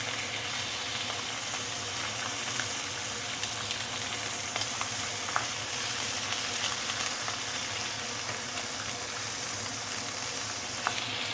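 Ikan keembung fish pan-frying in a modest amount of oil make a continuous, even sizzle with faint scattered crackles, close and steady for several seconds as the pieces are turned over one by one.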